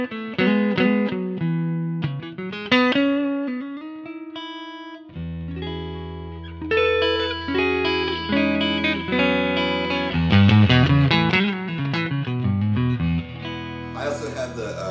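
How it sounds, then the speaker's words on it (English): Clean electric guitar played through a Quilter Superblock amp, with the neck humbucker split and the gain at halfway but undistorted. A melodic run of single notes and chords is picked close and clear, alone without talk. "And this is just a great, great clean. I have the gain about halfway, but not distorted at all"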